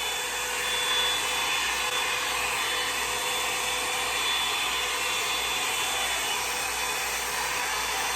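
A hair dryer runs on its high, full-blast setting, a steady, loud whooshing roar with a thin whine on top, close and unbroken throughout with no talking.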